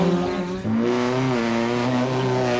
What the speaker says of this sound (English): In his Sierra Cosworth, John tops the times on both days